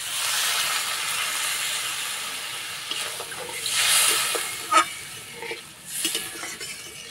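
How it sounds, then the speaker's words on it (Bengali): Water poured onto spiced potatoes in a hot pan sets off a bright, airy hiss of steam that swells in waves with a few sharper spits, close and without speech. "এবার জল দিয়ে দেবো।"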